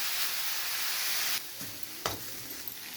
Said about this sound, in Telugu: ఈ నెయ్యిలోనే ఇప్పుడు ఈ క్యారెట్ తురుము వేసి వేయించాలండి.